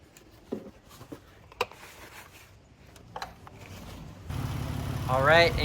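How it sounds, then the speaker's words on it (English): A Dodge Grand Caravan minivan engine turns over and settles into a steady low idling rumble in the last seconds, after quiet clicks and handling noises. "I got the engine started."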